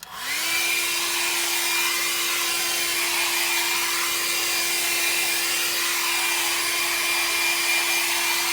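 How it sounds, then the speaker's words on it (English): Hair dryer switching on and running steadily at close range with a constant high whine and airy rush, used to dry a tinted sealer sprayed onto Range Rover leather interior. "Get the hairdryer and give it another dry again."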